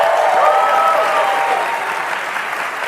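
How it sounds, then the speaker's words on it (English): Sustained audience applause at a FarCon keynote watch party, a steady even wash of clapping at moderate loudness with a few faint voices under it, fading slightly toward the end. "let's give a round of applause for Emma"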